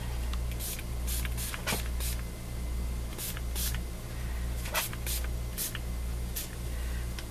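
Spray paint hissing onto a magazine page for a journaling spread, short bursts of spray in an irregular rhythm, fairly close, over a low steady background hum.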